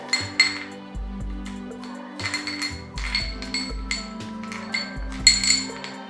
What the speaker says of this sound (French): Je vais venir prendre maintenant un bol, une assiette. Je vais verser mes caramels.